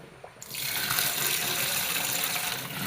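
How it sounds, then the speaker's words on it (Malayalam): Running tap water splashes steadily into a sink as green peas are rinsed, a broad continuous gush that starts abruptly and stays loud and close for the rest of the moment. "ഒന്ന് വൃത്തിയായി കഴുകിയിട്ട് വെള്ളത്തിൽ കുതിരാനിട്ട് വെക്കണം."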